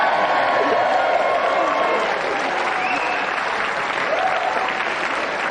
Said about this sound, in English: if we just like to give a round of applause again for our loser Sahid and our winner Annabel C